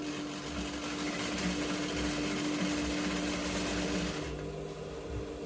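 A sewing machine runs steadily and loudly for several seconds while stitching fabric for Yoruba women's iro and buba native wear, with a continuous mechanical whir that drops slightly near the end.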